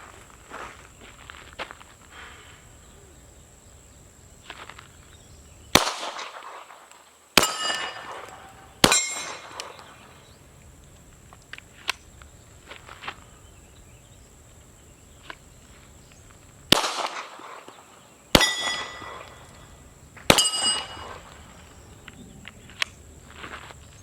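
Self-defense target practice at steel targets set in a semicircle outdoors: two groups of three sharp gunshots, each followed by a ringing metallic clang, with quiet insect-filled pauses between groups.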